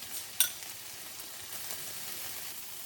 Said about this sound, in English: I'm adding 2 cloves of garlic and some of the grated ginger, some of the lazy ginger. I'm going to fry that for another minute.